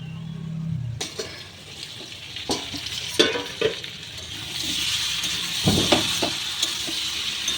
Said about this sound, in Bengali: আবারও আমি একটু ভালো করে নেড়ে নিচ্ছি